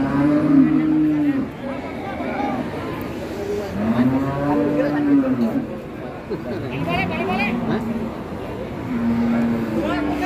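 Cattle, PO Doro breed, moo repeatedly at a cattle market, long low calls rising and falling, close and loud, over a steady background of outdoor chatter and noise.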